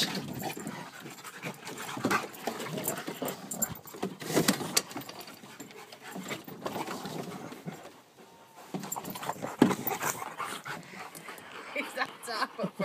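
Two dogs playing together up close, with heavy panting, scuffling and occasional whimpers running continuously, while a person talks over them.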